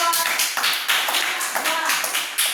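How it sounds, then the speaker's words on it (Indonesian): Classroom applause for a student group: many hands clapping at once in a dense, continuous patter that swells and dips, fairly close and steady throughout. "tepuk tangan buat kelompok"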